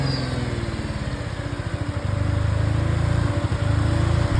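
A small engine using Vegemite as its oil runs loud and close, a continuous buzzing drone with a rapid, slightly uneven pulsing beat.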